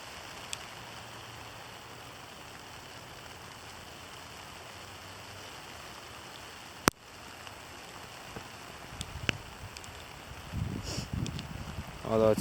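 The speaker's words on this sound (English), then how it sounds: "Although it's turned to mostly rain now." Steady rain falls during a November wind storm, a soft constant hiss with occasional brief knocks, faint and even throughout, with slight rustling picking up near the end.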